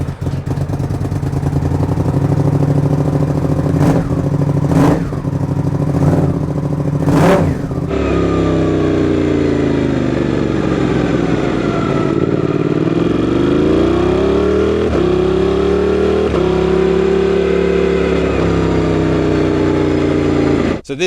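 A Suzuki GSX-8S motorcycle with an aftermarket exhaust gives a few quick throttle blips, then revs loudly and up close, its engine note rising and falling in long sweeps.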